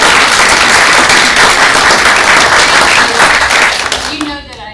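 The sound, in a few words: round of applause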